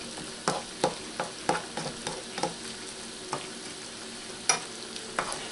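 Sliced steak frying in a pan at a street food stall, a soft continuous sizzle broken by sharp scrapes and clinks of a utensil stirring the meat.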